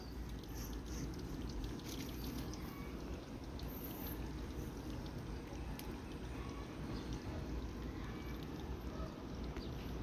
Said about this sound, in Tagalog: malakas yung batis, oh.